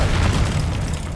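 Confringo blasting spell detonates in Hogwarts Legacy, a heavy, rumbling explosion that fills the whole short moment and fades slightly toward its end.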